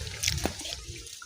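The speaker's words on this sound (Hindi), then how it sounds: "हाँ पानी चला दिया है मोटर का।" Water gushes steadily from a newly started motor pump on a freshly drilled bore, a brief close rush of splashing flow.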